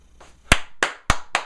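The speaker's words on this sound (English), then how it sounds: "I'm going to clap." Four sharp hand claps ring out at an uneven pace, close and crisp, with short decays between them and no voices.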